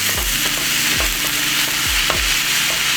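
A spoon stirs Italian seasoning into mushrooms sizzling in a pan, with a steady loud fry hiss and several scraping strokes spaced about a second apart, close up and with no talk.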